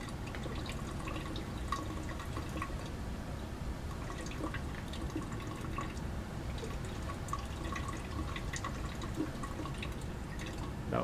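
Sodium bicarbonate solution trickles and drips steadily as it is poured in a lab extraction, a continuous, moderately loud pour with small splashing ticks throughout, no voices.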